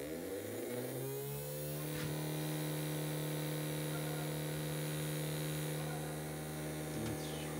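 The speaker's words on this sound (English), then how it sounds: "So we'll get our one motor started." A small electric motor wired to an aluminum sulfur battery starts up and runs with a steady, loud mains-like hum and buzz, and faint clicks come through near the start and end.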